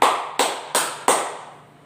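Four close, crisp hand claps in a steady rhythm, each with a short room decay, given as a signal during a children's classroom game.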